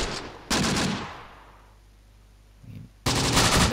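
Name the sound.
machine gun fire in the video game Close Combat: The Bloody First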